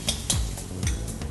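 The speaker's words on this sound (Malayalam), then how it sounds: "അതും ഓയിലിൽ തന്നെയാണ് പ്രിപ്പയർ ചെയ്യുന്നത്. അതിട്ട് കുറച്ച് ഇഞ്ചി ഇടും." Ginger hitting hot oil for chicken masala, a steady close sizzle with a few sharp stirring scrapes against the pan in quick bursts.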